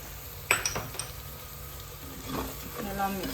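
Garam masala, green chilies and other spices sizzle in a hot pan for paneer pulao while a spoon stirs through them, with sharp metallic clinks against the pan over a steady frying hiss.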